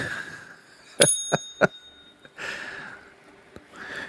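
A bicycle bell rings three quick times, clear and bright, followed by quieter shuffling noises.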